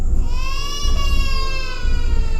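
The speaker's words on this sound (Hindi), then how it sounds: "पर वो रोने की आवाज़ आखिर आ कैसे रही है" A child crying in a horror story, a high wailing sob with a wavering pitch that rises and falls, sustained for a couple of seconds over a low rumbling background.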